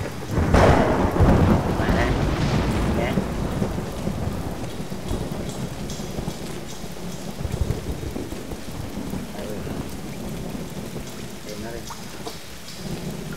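A thunderstorm with lightning and rain in the video game Tomb Raider: a loud thunder crack and rumble at the start, then steady, heavy rain hissing throughout.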